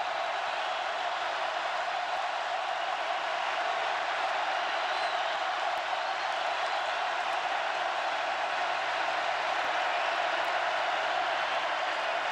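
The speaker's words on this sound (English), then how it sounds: "the crowd getting into it here on another 3rd down and 4 for Georgia" Steady, dense roar of a stadium crowd at a 2018 Georgia at LSU college football game, building noise on a Georgia third down, continuous and loud throughout with no clear voices standing out.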